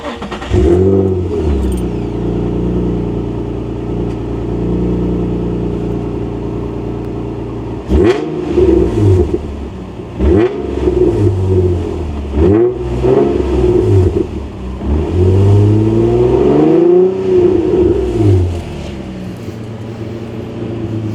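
A Nissan 350Z fitted with a Henko Y-pipe exhaust idles steadily, then revs repeatedly in loud, close blips from about eight seconds on, each rise and fall of the engine note clearly separated.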